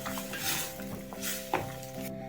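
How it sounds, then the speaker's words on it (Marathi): Spices get stirred into mashed vegetables for pav bhaji, a soft sizzle with scraping spoon strokes against the pan and a sharp knock near the end. "तर आता हे मसाले भाज्या ज्या आहेत ते यामध्ये घालूया आणि छान असं मिक्स करून घेऊया."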